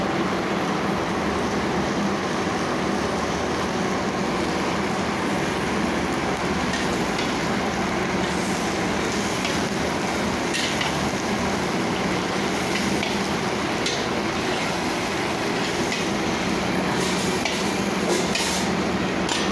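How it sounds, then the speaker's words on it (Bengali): Onion stalks sizzling in hot oil in a pan, a steady dense crackle and hiss that runs unbroken throughout, with occasional faint clinks of stirring. "এখন পেঁয়াজ কলিটা ভাজা হচ্ছে।"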